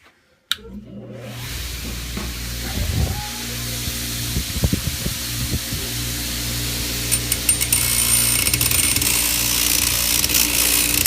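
A power sander starts up with a click and runs with a steady whirring hiss as it works back and forth on a part of a 1975 Honda CB750 cafe racer, close and continuous.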